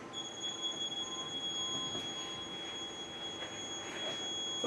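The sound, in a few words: UV water sterilizer power supply beeping, bulb fault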